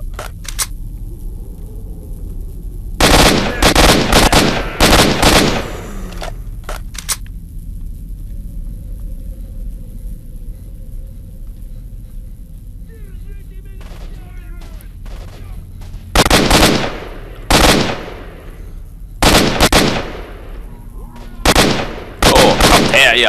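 Gunfire in the video game Stalker: Shadow of Chernobyl comes in sharp bursts of rapid shots separated by quieter gaps, loud and close, with occasional talking.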